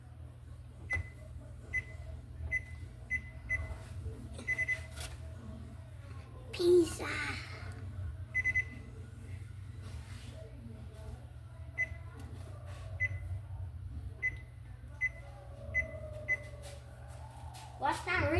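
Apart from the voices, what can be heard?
kitchen timer beeping while being set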